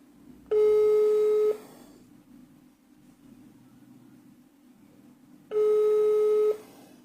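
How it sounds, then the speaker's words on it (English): Two long electronic ringing tones of an outgoing phone call, each about a second, separated by several seconds of low background hiss. "Okay, it's ringing."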